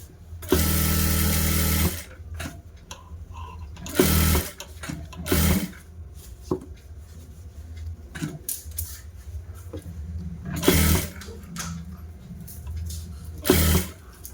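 A sewing machine stitches the lining of a blouse in bursts: a long steady run at the start, then shorter runs separated by pauses, close and fairly loud, with faint handling noises in the gaps and no talking.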